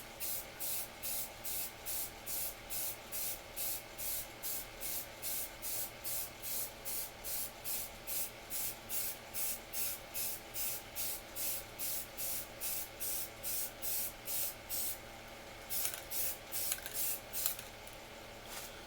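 Spray paint hisses onto a historical DL&W rail in rapid, evenly spaced short bursts, a long rhythmic run of quick sprays that turns slightly irregular toward the end.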